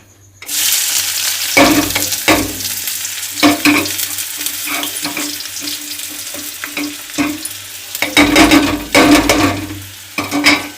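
Egg bhujia with onion and salt fries loudly in a pan, a dense continuous sizzle broken by repeated scraping strokes of a spatula stirring, close and prominent.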